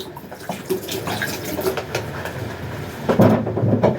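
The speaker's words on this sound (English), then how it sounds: "Some running water, rinse on, clean and proper, right?" Running tap water rinses pig trotters in a sink, a continuous splashing stream that swells louder toward the end, close and without talk.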